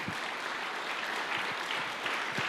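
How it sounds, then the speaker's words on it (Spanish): A church congregation claps continuously in a dense, even wash of applause, moderately loud and without pauses. "Dale aplauso al Señor."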